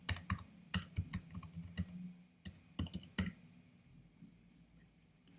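A computer keyboard being typed on in short quick bursts of close, crisp key clicks with brief pauses, recorded quietly with no one talking.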